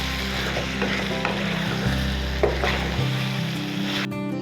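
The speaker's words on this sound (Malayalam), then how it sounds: "എന്നിട്ട് നല്ല രീതി അങ്ങോട്ട് ഇളക്കി കൊടുക്കുക" Chili chicken sauce sizzles steadily in a frying pan while a spoon stirs it, giving a loud continuous hiss with occasional scraping knocks, and the low rumble beneath drops away near the end.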